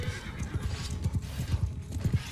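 Hooves of horse archer cavalry in the Bannerlord video game beat in a rapid, rhythmic clip-clop across a battlefield, low thuds repeating steadily at mid distance with faint battle ambience behind.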